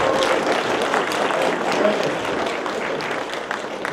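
An audience at a Moscow meetup talk on Amazon PPC applauds the speaker Alexander, a dense, steady clapping that fills the room throughout with no break.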